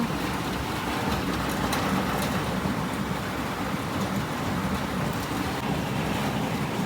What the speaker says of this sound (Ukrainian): Тропічні дощі прийшли.